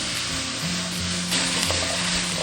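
Squid and radish stir-fried hard in a wok with soy sauce, a loud continuous sizzle with brief scraping stirs, close up and without talk.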